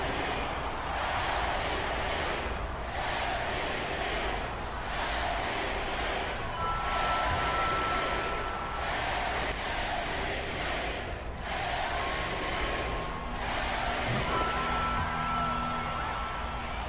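Basketball arena crowd in NBA 2K23 during a free throw by an Orlando player, a steady loud roar of cheering and chanting with rhythmic swells throughout.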